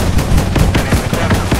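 Rapid machine-gun fire rattles against a tank's armor in the Roblox game Multicrew Tank Combat, a dense, steady burst of repeated impacts lasting throughout with no pauses.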